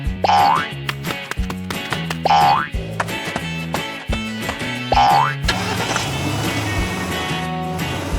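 Cartoon family car setting off, heard as repeated bouncy boing effects and a rhythmic puttering engine loop, loud and close, ending in a steady motor drone.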